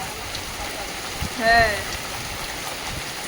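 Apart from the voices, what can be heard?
rain falling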